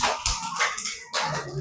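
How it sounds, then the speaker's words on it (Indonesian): A classroom group claps for a student during an Indonesian-language lesson, a burst of mixed, overlapping hand claps that dips briefly and then swells again, fairly close and loud. "Tepuk tangan dong."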